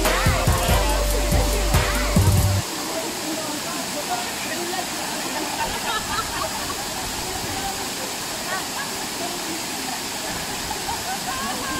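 Batlag waterfall in Tanay, Rizal, roars as a steady broadband wash of falling water, loud and continuous, with a brief burst of louder low rumble and voices in the first couple of seconds.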